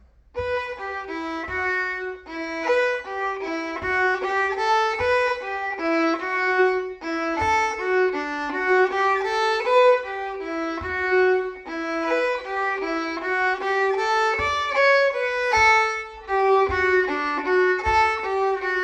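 A fiddle plays part A of Monaghan's jig, an Irish jig: a bright, lively melody of quick plucked-sounding notes in a steady bouncing rhythm, clear and close, with brief pauses between phrases.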